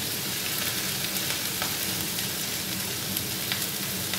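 Carrots sizzle steadily in a hot pan as they fry for carrot rice balls, an Indian-Japanese appetizer. The crackling is close, even and unbroken, with no talking.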